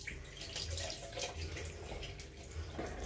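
Water runs from a tap as hands are washed beneath it, a quiet, steady splashing hiss with soft uneven surges.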